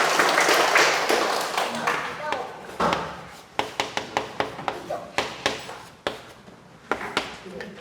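An audience bursts into a short round of applause with a sequence of distinct sharp claps at a live Q&A and counselling talk, rising over a speaking voice and then tapering to scattered claps.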